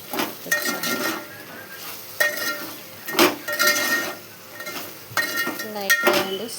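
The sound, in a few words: stirring vegetables with salt and chili powder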